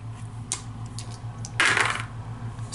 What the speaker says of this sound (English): it says roll 2 dice